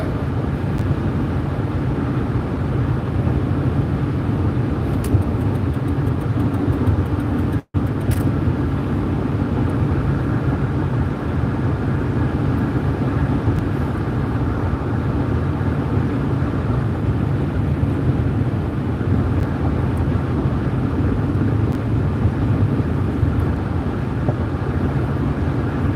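A car drives on a snowy road in central Iowa, giving a continuous low road and engine rumble from inside the cabin, steady throughout with one sharp momentary dropout.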